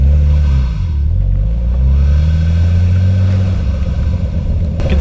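A Nissan R33 Skyline on the move, its engine a loud steady rumble heard from inside the car, with a gentle rise and fall in pitch as it drives and no voices.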